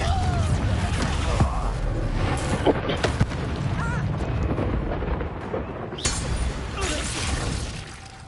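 A Confringo fire spell from a Harry Potter video game bursts in a castle keep with a loud crackling blast near three seconds, then a second booming explosion around six seconds, amid rumbling game ambience.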